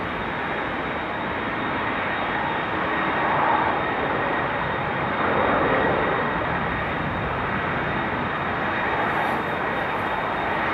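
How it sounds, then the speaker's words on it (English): A KLM Embraer E195-E2 jet on approach into Amsterdam after a storm, a loud continuous engine roar that swells and fades gently without talk. "Next up will be 24 Tango, which is a KLM E195 E2 coming in from Copenhagen, which is on approach right now."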